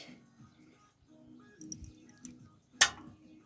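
Homemade antiseptic liquid being poured into a small spray bottle, a few quiet drips and trickles followed by one sharper splash near the end, faint and close with no talking.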